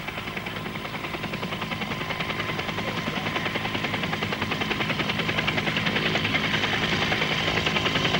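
A helicopter hovers above a professional road cycling race, the Clásica San Sebastián, giving a continuous loud rotor drone with a fast, even chop that swells slightly and stays steady throughout, no talk.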